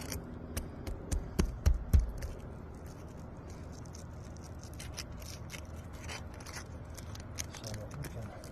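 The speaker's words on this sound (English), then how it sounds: "Pull apart the shingle." A 3-tab asphalt roof shingle is pulled apart from its adhesive seal strip, giving a short run of sharp cracking snaps and scrapes near the start, then only quiet background.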